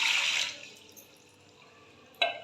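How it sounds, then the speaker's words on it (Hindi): Half a litre of water poured into a pressure cooker on a stove, a brief bright splashing pour at the start that fades out, followed by quiet and a short metallic clink near the end. "1/2 लीटर पानी डाल के"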